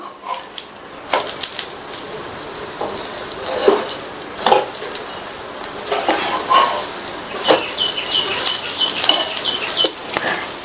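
Rava uttapam frying in oil on a pan at home, a steady sizzle with scraping and clinking as the spatula works beneath it and flips it, ongoing and fairly close.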